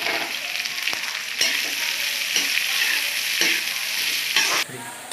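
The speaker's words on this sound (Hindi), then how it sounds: "ओनियन को हम हल्के ही फ्राई करेंगे, जिससे हमारा ओनियन पुलाव बहुत टेस्टी बनेगा।" Onions fry lightly in oil with cumin, fennel and chili for an onion pulav, a loud continuous sizzle punctuated by several stirring scrapes and a spatula knock near the end.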